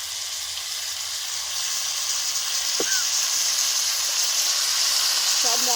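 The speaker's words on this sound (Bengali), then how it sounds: "সব মশলাগুলো ভালো করে কষিয়ে নেব" Chili and cumin spice paste fries in a pan for a village-style tilapia curry, a loud, steady sizzle and hiss throughout, with a brief clink partway.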